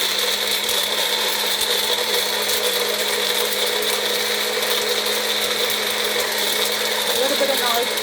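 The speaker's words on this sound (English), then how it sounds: "I'm doing it in my magic bullet" Magic Bullet blender whirring steadily as it blends beetroot for juice, a loud continuous motor drone with a high whine that runs unbroken for the whole stretch.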